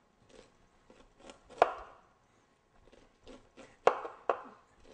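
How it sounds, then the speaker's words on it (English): A knife cuts kernels off a cob of freshly boiled local corn, giving scattered soft scraping strokes and a few sharp chops against the board, close and fairly quiet with no talk. "And we take this corn, cut it off the cob."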